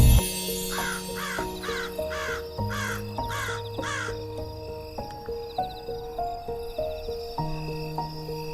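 Several crows caw in a steady series of harsh calls, fairly close, over a constant background of insect chirring and other tonal sounds.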